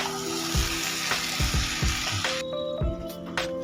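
Cauliflower and potatoes, fried beforehand, sauté in a spiced masala in a pan, giving a steady close sizzle with repeated scraping stirs. The sizzle thins out toward the end, and no one speaks.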